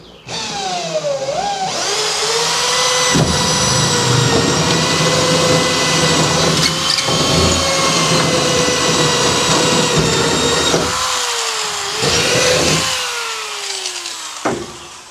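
A power drill whines loudly and steadily for several seconds drilling into metal on a fishing boat, its pitch shifting as it bites in, stopping briefly and starting again.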